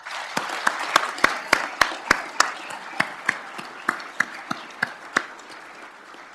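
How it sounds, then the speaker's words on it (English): Scattered claps from the audience at a Fargo police academy graduation and swearing-in ceremony, a dozen or so distinct crisp hits at an uneven pace over a soft bed of broader applause, with no talk over them. "I'd like to take just a moment to give them a round of applause for the work that they do every day."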